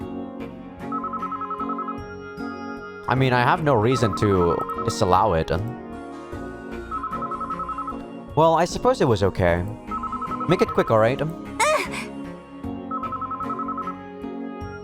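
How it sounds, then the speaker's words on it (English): A telephone bell rings in short repeated bursts, five rings spaced evenly, with voices talking between and over them. "The phone kept ringing."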